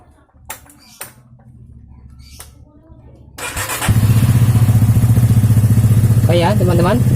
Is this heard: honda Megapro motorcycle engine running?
yes